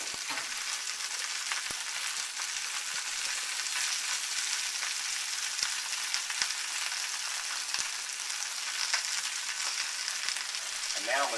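Braised lemon chicken simmering in sauce in a pan, a steady soft sizzle and bubbling hiss that runs continuously at low volume, with a few faint clicks and no talking.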